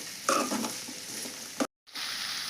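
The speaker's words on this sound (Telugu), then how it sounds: "ఈ క్యాబేజీని కూడా బాగా ఫ్రై చేస్తాను." Cabbage sizzling and frying in a pan while being stirred, a steady close hiss with scraping strokes, briefly cut to silence before the sizzle resumes.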